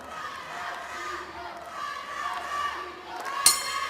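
Arena crowd at a women's AIBA boxing final cheering and shouting in a sustained, roomy roar, with a sharp ping near the end.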